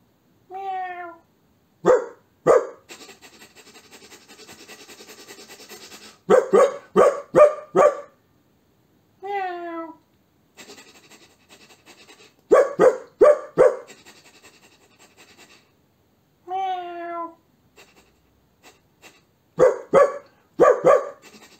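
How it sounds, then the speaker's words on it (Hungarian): A dog barks in short bursts and a cat meows, the calls alternating clearly with quiet gaps between them and no talk over them. "A kutya és a macska."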